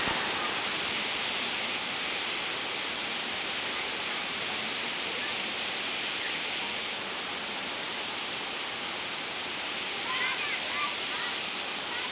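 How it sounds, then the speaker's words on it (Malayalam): Two small village waterfalls close together, running lower than usual after a couple of dry days, give a steady, broad roar of falling water that holds even throughout, with no talk heard. "ഇതാണ് ആ വെള്ളച്ചാട്ടം അടുത്തടുത്ത് രണ്ട് വെള്ളച്ചാട്ടം"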